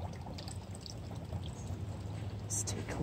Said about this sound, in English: I'm going to top up that little pond too.